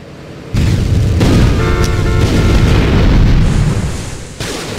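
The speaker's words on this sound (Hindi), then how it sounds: "क्या धमाका हुआ, जोरदार था, बिल्कुल जोरदार धमाका हुआ।" A loud, sudden explosion in the video game GTA Vice City Stories erupts after a brief quiet, followed by a sustained roaring rumble that slowly fades.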